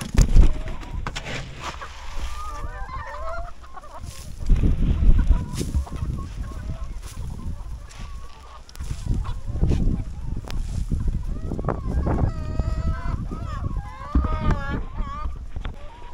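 Chickens let out in the morning cluck and squawk in a busy yard in Thailand, with scattered honking calls and rustling, shuffling movement throughout.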